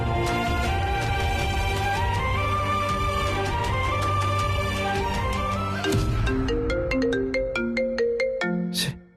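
A melodic phone ringtone signalling an incoming call plays loud and continuous, its tune stepping through repeated notes for about nine seconds before cutting off, with no talk over it.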